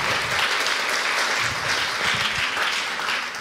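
An audience claps steadily for a few seconds at a post-film discussion event, a dense, sustained round of applause heard up close with no talk over it.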